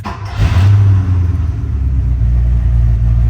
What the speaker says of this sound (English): Let's start this Porsche up. I can't wait for you to hear it.